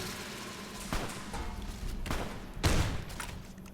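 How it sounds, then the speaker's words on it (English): Shotgun blasts in Fallout New Vegas: several booming shots, one near 1 second, another around 2 seconds and a louder one near 2.7 seconds, each trailing off over steady game background noise. "This is a shotgun."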